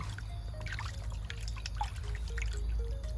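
Water trickles and splashes steadily as it is poured onto about half a kilo of molasses to dissolve it for a homemade EM starter, close and continuous with faint drips.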